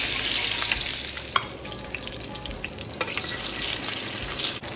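Short ribs brown in oil in a frying pan, with a continuous close sizzle and occasional sharp crackles and spits throughout.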